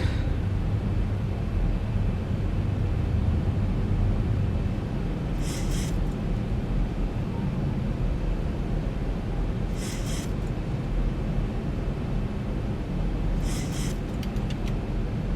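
A Zibo Boeing 737-800 in the X-Plane 11 simulator drones steadily on approach with gear down, a continuous low engine rumble and airflow roar with a few brief high chimes or tones at intervals.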